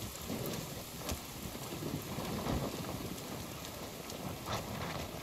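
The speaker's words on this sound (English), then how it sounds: "It always gets dark when it rains, and then I think it's the end of the day when it's just the storm." Rainstorm in The Forest VR, a dense steady hiss of rain on surfaces with low rumbling thunder rolling underneath and a few sharper drops, continuous and fairly quiet.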